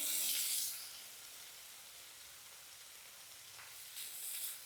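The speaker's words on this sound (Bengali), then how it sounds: "দেখো সবগুলো পেঁয়াজ আমি দিয়ে দিয়েছি। এবার পেঁয়াজগুলোকে একটু নেড়ে নেব।" Onions frying in a pan and being stirred, giving a soft, steady hiss that swells louder at the start and again near the end, with no talking.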